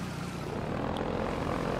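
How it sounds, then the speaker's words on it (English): Helicopter rotor drone in the video game Half-Life 2, a steady, loud low-frequency chopping hum that holds constant throughout, as if hovering nearby off-screen. "A helicopter is about to fuck me up as soon as I go that way"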